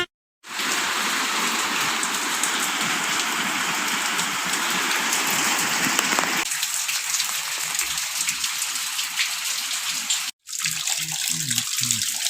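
Heavy rain pours down in a steady, dense wash that fills the whole stretch, thinning somewhat after the midpoint and cut by two brief silences, with no one speaking.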